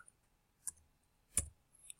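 A few sparse, quiet keyboard clicks, like isolated keystrokes, separated by short pauses with no talking.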